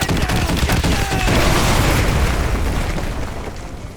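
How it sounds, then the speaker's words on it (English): A danger-close artillery strike in the Modern Warfare 2 campaign brings loud, heavy explosions that merge into a dense roaring barrage and rumble, slowly tapering off, with no speech over it. "Fire mission, danger close. So, incoming! Get down!"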